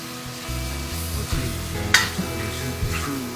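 Onions sizzle and are stirred in a hot wok after the pork has been drained. A steady close frying hiss runs throughout, with a few scraping stirs and a brief sharp spatter near the middle.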